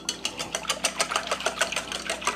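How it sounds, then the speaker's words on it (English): A whisk beats eggs, milk, cinnamon and vanilla extract in a bowl for stuffed French toast, making quick, steady, rhythmic scraping taps close up, with no voices. "we whisk it all together"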